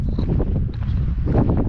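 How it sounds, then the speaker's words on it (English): Strong wind blows steadily outdoors, a dense low rushing roar buffeting the microphone throughout. "It's so windy out though."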